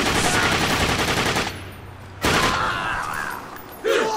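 Dense automatic gunfire from a video game firefight, loud and continuous for the first second and a half, then breaking off and returning in sharp bursts, with shouting voices over it.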